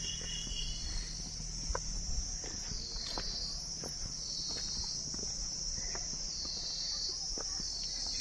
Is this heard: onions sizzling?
no